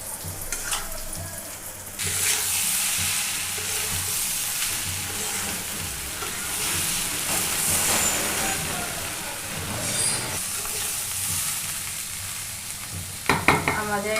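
Chicken biryani mixture fries and is stirred in a pot, with a steady, close sizzle throughout and scraping stir noises. A louder clatter comes near the end.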